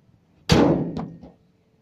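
The heavy engine hood of a 2009 Toyota Fortuner 2.7 V 4x4 with no hood insulation slams shut with one loud, close metallic thud, then a short rattling rebound and a quick decay.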